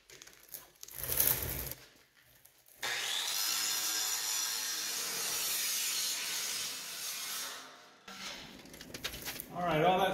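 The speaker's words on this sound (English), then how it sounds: "I'm going to use the big grinder for that" A large angle grinder cuts through metal sub-cross members for a fabricated hinge structure, giving a loud, steady, harsh grinding whine that runs for about five seconds, with shorter bursts of tool noise before and after.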